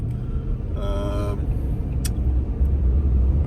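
A vehicle drives along a road towing a trailer, on the way to pick up an S13 240SX coupe in Washington; a steady low engine and road rumble runs throughout, with a brief burst of mid-range noise and a sharp click partway through.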